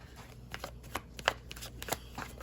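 Tarot cards are shuffled by hand, a close, crisp flurry of riffling and slapping card sounds in quick irregular bursts, with no talking.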